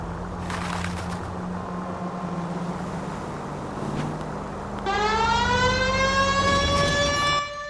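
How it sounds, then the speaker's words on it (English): A police car siren in the video game L.A. Noire, a wailing tone rising in pitch and then holding steady over a low engine rumble, loud and close in the second half after a quieter start. "We've got a siren for a reason"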